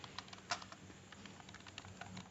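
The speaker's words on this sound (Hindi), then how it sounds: "तो देखिए जैसा कि मैं टाइप कर रहा हूँ सेम आपको ऐसा ही टाइप करना है" Rapid, steady keystrokes on a computer keyboard during home-row touch-typing practice, a continuous quiet patter of clicks with a few sharper taps, heard alone without talk.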